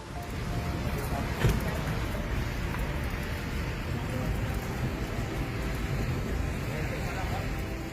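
Heavy rain pouring during a storm in Çanakkale province, a dense, steady hiss of downpour with a faint rumble beneath it throughout.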